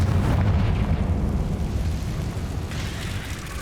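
Confringo blasting spell in Hogwarts Legacy, a loud, sustained rumbling explosion with heavy low-end boom that rolls on for several seconds before slowly easing off, with no speech over it.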